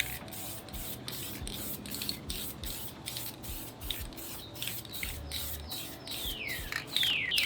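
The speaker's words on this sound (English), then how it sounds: "I'm kind of just, you know, spraying." A spray can laying brown paint onto a rifle in short bursts of hissing spray, close by and steady with brief gaps, while faint bird chirps sound in the background.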